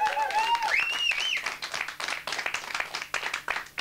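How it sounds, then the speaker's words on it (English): A small audience claps and cheers, scattered hand claps that thin out into irregular bursts, with whooping voices and a whistle-like cry early on, fairly faint overall. "Applause, applause, applause."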